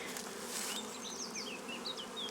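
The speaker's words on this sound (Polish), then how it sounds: "Tu ramka jest z pszczołami" Honeybees swarming over a frame lifted from a beehive, a dense, close buzzing hum with individual bees whining past at rising and falling pitch.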